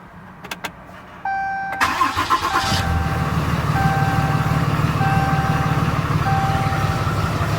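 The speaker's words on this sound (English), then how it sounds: "You hear the turbo spool." A turbocharged tow truck engine cranks and catches, then settles into a steady loud idle with a high turbo spool whine over it, while a few short electronic beeps chime.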